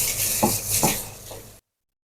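Whole spices stirred in oil in a pot for handi, with a faint crackle and three distinct metallic scrapes of a spoon against the pot before the sound cuts off.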